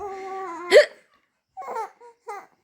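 A voice imitates a sharp hiccup after a short hum, followed by a baby's brief bursts of laughter and babbling in a quiet room.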